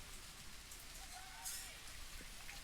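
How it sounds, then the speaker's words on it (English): Heavy rain pours steadily over an outdoor men's league football pitch, a faint even hiss with scattered drops. Distant crowd ambience sits beneath it and no voice stands out. "Rain coming down hard."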